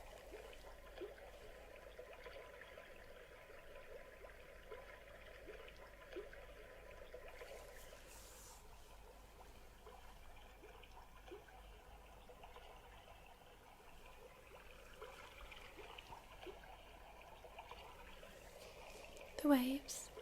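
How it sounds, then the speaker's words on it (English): Water trickles gently in a quiet setting for an ASMR hearing test, a soft continuous dribble lasting throughout, with a brief louder sound right at the end. "It's water."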